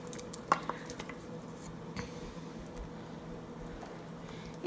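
Cooked, finely chopped chicken tipped into a pot of simmering sweet corn soup, with a soft thud and a few stirring scrapes over a steady low bubbling background, close and fairly quiet.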